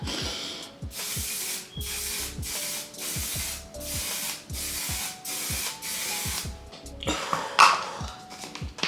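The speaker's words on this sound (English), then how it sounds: "This is the One Size setting spray." Repeated short bursts of makeup setting spray misted onto a face, about a dozen hissing pumps in a steady rhythm, close and clear, followed by a faint rustle.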